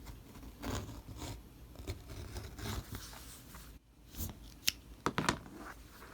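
Pinking shears trim a curved fabric seam allowance, giving soft, close cutting crunches and snips that repeat unevenly at low volume, with a few sharper clicks near the end.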